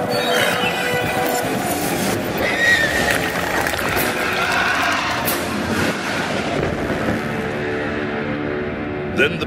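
A horse whinnies in a dramatic sound effect for an audio Bible reading of Revelation 19, a loud, shrill neigh over a dense rumbling battle backdrop with hoofbeats.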